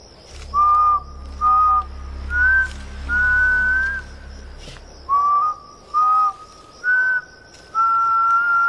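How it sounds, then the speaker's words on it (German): A person whistles a loud, clear tune of repeated short notes and held tones in a stop-start pattern, alone with no talking. "Hör auf zu pfeifen, das nervt."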